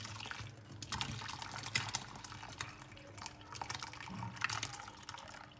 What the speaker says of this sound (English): I'm just gonna pour it straight into the mold.